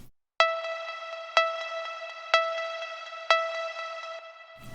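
Synthesized tonal snare in a deep house track with its filter opened, four evenly spaced bright pitched hits landing on the two and four, each ringing out with a long reverb tail.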